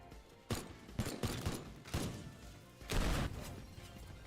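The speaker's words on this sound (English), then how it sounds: "Maybe I just have to shoot the barrel myself." Gunfire in a video game aimed at a barrel: a handful of sharp, punchy shots in irregular succession, with a heavier blast near the end, fairly quiet overall and no talking.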